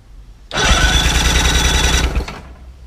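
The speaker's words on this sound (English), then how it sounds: "and you spin the motor" An outboard motor is cranked over by its starter during a compression test, giving a loud, close, rapid whirring churn that starts suddenly, runs about one and a half seconds and stops.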